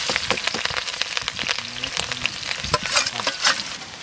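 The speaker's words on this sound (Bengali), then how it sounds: "এখন বেগুন দিয়ে আর ডিমের শাক দিয়ে ভাজবো, পেঁয়াজ আর কাঁচা লঙ্কা কুচি" Aubergine, egg greens, chopped onion and green chilli sizzle and crackle in hot oil at an outdoor village cooking spot, with steady frying hiss and the occasional scrape of stirring.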